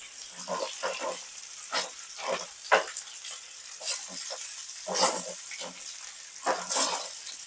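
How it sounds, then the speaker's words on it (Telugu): Fish fries in oil with banana leaves over a low-to-medium flame. The oil sputters and crackles in uneven bursts, with a few sharper pops against a quiet background. "ఇక్కడ ఫ్లేమ్ అనేది లో flame to medium flame adjust చేసుకుంటూ రెండు వైపులా బాగా ఫ్రై చేసుకోవాలి"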